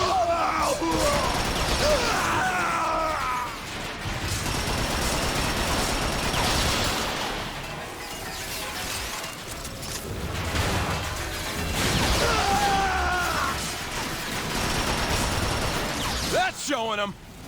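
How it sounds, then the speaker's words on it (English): Gunfire in a battle from the Transformers: Fall of Cybertron video game, a dense continuous barrage of blasts and mechanical clatter mixed with loud game music and effects, while characters talk over it. "Autobots! Open fire!"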